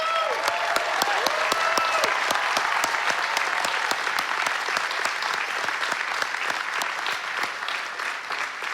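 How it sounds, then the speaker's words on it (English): Sustained applause from a large audience at a university graduation ceremony in 2019 as graduating students stand, dense steady clapping filling the hall throughout with a faint crowd murmur. "I ask that all students graduating today stand and be applauded"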